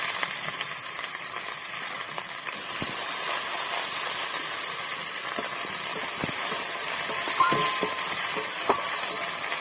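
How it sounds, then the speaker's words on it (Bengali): Chopped amodi fish fries in hot white cooking oil, giving a steady, close hiss and sizzle that runs the whole time and grows slightly fuller partway through, with a few faint clinks and no voices. "তো আমি কুচনো মাছটা দিয়ে দেবো"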